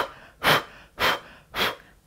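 Three sharp, evenly spaced nasal inhales during a voice-protection breathing exercise, each a loud, close, breathy burst about half a second apart, with no talking.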